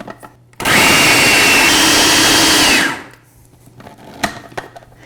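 A countertop blender whirs loudly for about two seconds as it mixes batter with vanilla, lemon juice and salt, then spins down and stops, and a few light knocks follow in the quiet.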